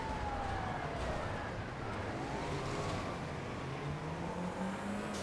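Ambulance siren in a train video game, a wailing tone sweeping up and down over a constant roar of vehicle and engine noise, steady and fairly loud throughout.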